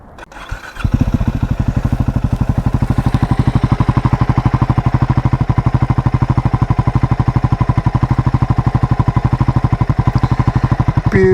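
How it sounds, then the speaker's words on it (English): A Triumph Scrambler 400 X single-cylinder 400cc motorcycle engine cranks briefly, catches and settles into a loud, steady, rapid thudding idle, heard up close. "let's go and fire up this little 400cc and have a listen"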